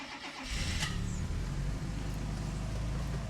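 A Mercedes-Benz S124 estate starts up close by, with a brief crank that catches into a steady, rumbling idle that continues to the end, and no voices.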